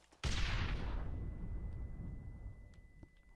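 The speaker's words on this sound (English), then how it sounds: "I just heard dynamite get thrown." A stick of dynamite goes off in Red Dead Redemption, one sudden loud blast with a long rumbling decay fading over a few seconds, heard alone.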